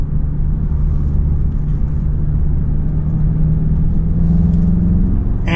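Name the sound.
2026 Volkswagen Jetta GLI engine sound while driving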